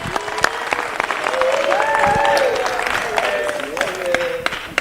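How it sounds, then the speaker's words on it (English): An audience at a youth enterprise and business awards forum applauds, a dense patter of clapping that swells and fades while a voice speaks over it. "another round of applause"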